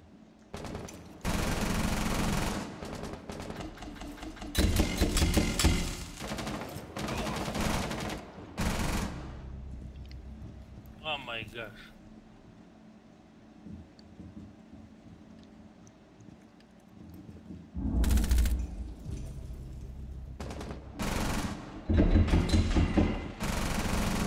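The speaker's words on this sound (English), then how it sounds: "They're shooting here." Bursts of video-game gunfire from Rainbow Six Siege crackle in several loud clusters, separated by quieter stretches with low rumble and faint background noise.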